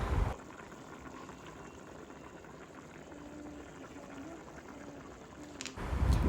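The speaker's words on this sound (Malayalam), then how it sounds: "നല്ല പോലെ തിളച്ചിട്ടുണ്ട്." A pot of beef stew masala simmers alone in a steady, gentle boil, a soft continuous bubbling murmur held at an even low level for several seconds, ending with a brief louder rustle.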